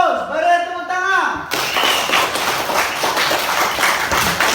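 A classroom of students in an Islamic studies lesson breaks into clapping right after a teacher's brief spoken line. Dense, fairly loud hand claps continue steadily to the end.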